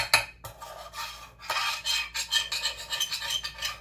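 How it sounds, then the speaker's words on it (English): A utensil scrapes browned roast chicken and potato drippings from a roasting pan into gravy, giving repeated rough metallic scrapes and stirring strokes in an uneven rhythm, close and moderately loud with no talking. "Gotta scrape all that goodness off of there into the gravy."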